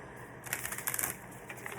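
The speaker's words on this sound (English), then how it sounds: "So we're gonna shuffle on the Selenites," Oracle cards shuffled over selenite, a quiet burst of papery riffling and soft slaps in the middle of the stretch, faint and close with no voices.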